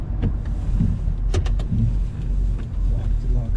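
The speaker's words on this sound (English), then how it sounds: "You can hear that little tiny exhaust leak in the motor." A 1987 GMC C20 truck's fuel-injected 454 engine rumbles steadily at close range, with a faint puffing ticking from a small exhaust leak under the low drone.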